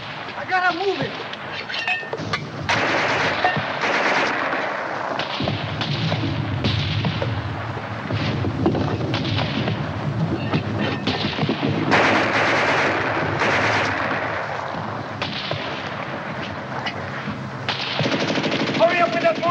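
Battle scene from a 1951 war film: rapid machine-gun bursts, gunfire and heavy booms of mortar and artillery rattle almost continuously, with shouted voices breaking through the din.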